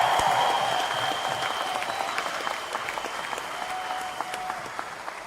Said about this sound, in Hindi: तो आप सबके लिए जोरदार तालियां